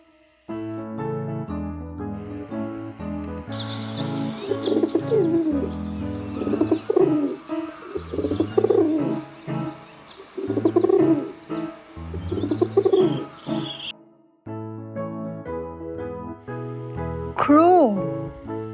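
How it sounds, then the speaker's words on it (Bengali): A pigeon cooing in soft, repeated murmuring phrases, heard over a steady children's music track with a melodic backing throughout. "পায়রা।"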